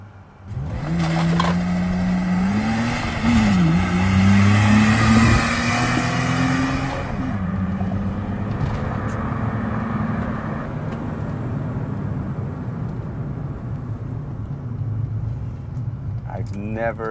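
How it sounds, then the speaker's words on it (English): A BMW E30 325i with very high mileage accelerates hard, its engine revving up through gears with rising pitch and brief shift dips, then settling into a steady cruise drone with road noise. "I've never driven this car this fast."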